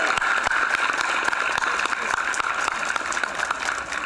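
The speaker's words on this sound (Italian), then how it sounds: "Un applauso." Dense, steady applause from a seated audience fills the hall at an Italian community talk as the final speaker is welcomed, continuous and close for the whole stretch without any voices.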